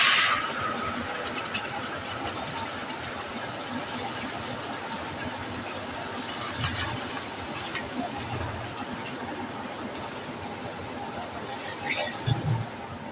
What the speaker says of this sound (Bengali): এবার আমি এই পেস্টটাকে ঢেলে দেব সম্পূর্ণ।